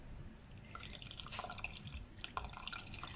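Tamarind water goes into cooking sambar in a home kitchen, heard as quiet dripping and light splashing of liquid, close and soft, with no talk.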